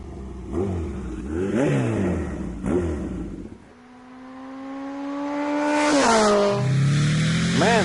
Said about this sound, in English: the sound of the motorcycle is fantastic